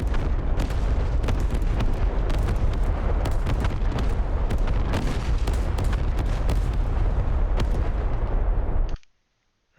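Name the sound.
artillery firing in a military video game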